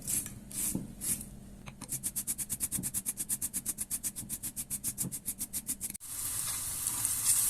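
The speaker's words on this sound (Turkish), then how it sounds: "Şimdi de bir tane havucumu iç malzemesi için rendeliyorum ve 2 yemek kaşığı sıvı yağına soteleyeceğim biraz." Grated carrot sizzles in sunflower oil while being stirred, with a steady run of rhythmic rasping strokes before a louder, even sizzle takes over near the end.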